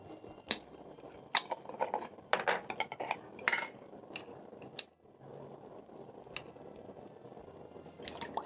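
Eggs with salt and pepper are whisked in a bowl, giving clinks and scrapes of metal against the dish. The sounds come close and irregular, in busy bursts with short gaps between them.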